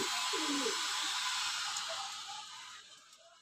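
A pigeon gives a short, low coo near the start, set against a steady hiss of background noise that slowly fades.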